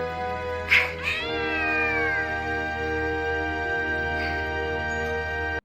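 A cat meows loudly several times, drawn-out calls with a wailing, caterwauling edge, near and prominent over a steady hum, with no talking.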